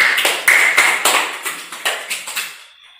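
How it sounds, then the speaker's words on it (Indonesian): A small classroom group claps for a student named Amirul during a lesson on ablutions: a quick burst of uneven, fairly close hand claps that thins out and fades to near silence within about two and a half seconds. "Tepuk tangan untuk Amirul."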